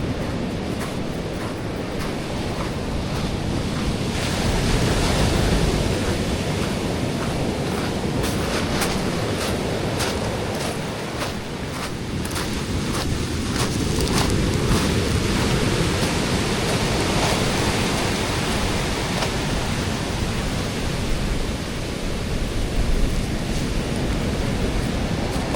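Sea waves wash onto a beach below soil cliffs eroded by high tides, a continuous broad roar of surf mixed with gusty wind buffeting the microphone, steady and loud throughout with no voices.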